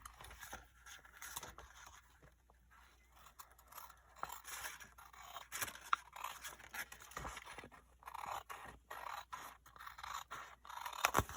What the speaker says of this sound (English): on the wrong side, you take your scissors and you cut off the excess